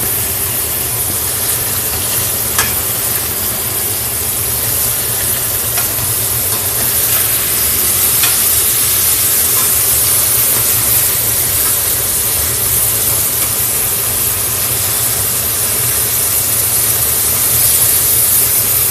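Burgers frying in a pan give off a steady, bright hiss that holds evenly for nearly twenty seconds, with an engine-like hum underneath and no talking.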